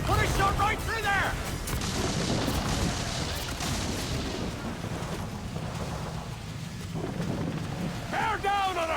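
Ship cannons fire during a naval battle in Assassin's Creed IV: Black Flag. Heavy booms and rumbling blasts roll on over churning sea noise, and shouted voices can be heard at the start and end.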